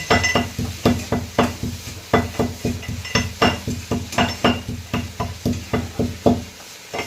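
Onion sautéing in a pan for a bitter gourd vegetable dish: rhythmic scraping and knocking of a spoon against the pan, roughly two strokes a second, over a soft sizzle, with no talk.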